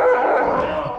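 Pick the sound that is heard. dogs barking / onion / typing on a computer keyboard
dogs barking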